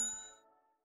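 A single bright notification bell ding rings out clearly, then its tone fades away over a bit under a second with no voices.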